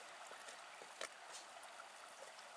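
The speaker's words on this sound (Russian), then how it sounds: "Речка, река Сок, и она здесь где-то начинает начало." Shallow flowing water of the small Sok River near its source, a soft continuous trickling and gurgling wash with a faint brief knock partway through, steady and fairly quiet.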